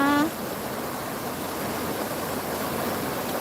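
A waterfall in Saraburi rushes steadily, a continuous broadband roar of falling water that barely changes, after a brief high tone at the very start.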